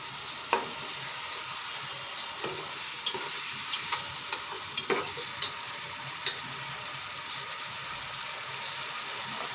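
A large fish head frying with spices in a pan, with a steady sizzle broken by a series of sharp scraping stirs and clinks from a spatula, close and alone.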